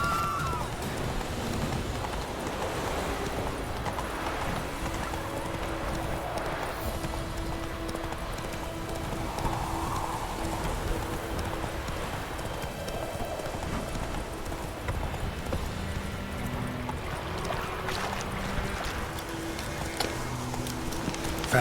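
Roach, the horse in The Witcher 3, gallops with a steady, fast clip-clop of hooves that runs without break, with faint game ambience and occasional brief voice underneath.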